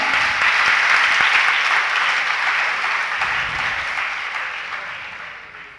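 A seated crowd applauds during a Jain religious sermon at Sammed Shikhar, producing dense, loud, continuous clapping that holds for several seconds before slowly thinning out.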